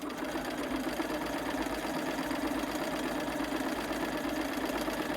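A sewing machine stitching fabric triangles together, a steady close mechanical whirr running continuously with a fine rapid rhythmic texture.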